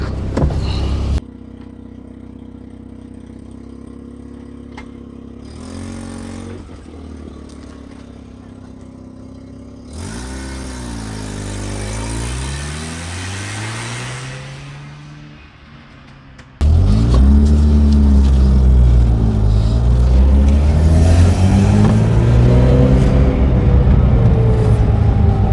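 A 1983 Mazda RX-7 brought back to running after two years, its engine rumbling and revving in rising, sweeping pulls as it drives off, loud and close from inside the car, with a brief quieter lull midway.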